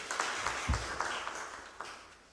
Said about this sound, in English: I think we should clap for him.